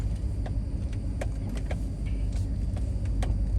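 A car drives over beach sand at Port Aransas, Texas, giving a steady low rumble of engine and tires, with faint clicks and rattles over the top and nobody talking.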